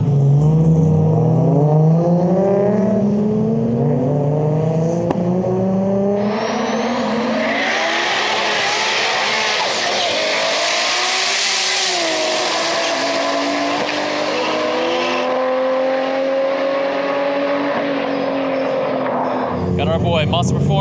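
A 1000 hp rear-wheel-drive Nissan R34 Skyline sedan roars down a drag strip, engine revs climbing through gear changes into a loud sustained scream, with an excited commentator talking over it.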